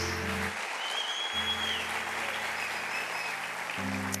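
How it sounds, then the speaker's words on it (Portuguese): A crowd at a church service claps steadily and continuously, a broad wash of applause with a low hum underneath. "Será que vocês podem aplaudir de gratidão os seus pastores?"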